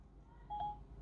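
Phone dialing tones during a Siri call attempt: a short, quiet electronic tone of under a second over a faint steady hum, with no voices.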